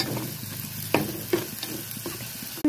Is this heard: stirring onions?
yes